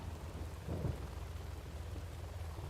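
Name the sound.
thunder from lightning on a video game map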